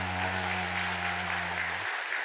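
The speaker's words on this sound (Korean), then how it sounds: "여러분도 잘했다고 생각하는 만큼 힘차게 박수해 주시기 바랍니다" A church congregation at a Sunday service claps after a hymn, a sustained wash of applause at moderate level, with a low organ-like tone holding underneath until it cuts off near the end.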